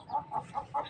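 A hen clucks four times in an even, soft rhythm, faint and close by in a quiet village yard.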